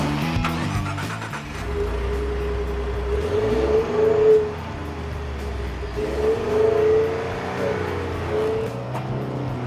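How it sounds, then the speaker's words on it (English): A 2013 Ford F-150 EcoBoost Limited pickup driving off-road, its engine droning steadily with two rising revving surges as it pulls through the terrain, close and fairly loud, with no talking. "But that also means you aren't going to get the really cool sounding engine."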